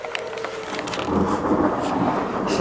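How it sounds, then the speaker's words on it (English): Thunder rumbles low and broad through a thunderstorm, swelling into a sustained roll with steady rain hiss underneath, fairly close and unbroken by voices. "Still got some nice thunder."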